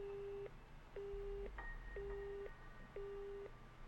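A telephone busy signal pulses in a dating-sim game, four evenly spaced tones about half a second each, steady and alone against faint background hiss.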